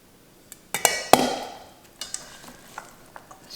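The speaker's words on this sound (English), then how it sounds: "Stir it around a little bit." A utensil scrapes and clinks against a bowl while corn and tomato salad is stirred, with a couple of sharp knocks near the start, then softer scattered scrapes and taps.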